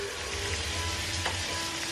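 Meatloaf ingredients frying in butter in a pan, a steady loud crackling sizzle that holds evenly throughout with no talking.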